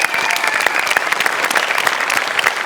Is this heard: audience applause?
yes